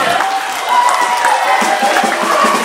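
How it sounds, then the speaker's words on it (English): Students at a school music clinic applaud, a dense burst of clapping and light cheering in a room, steady and fairly loud throughout. "how about giving yourselves a good round of applause?"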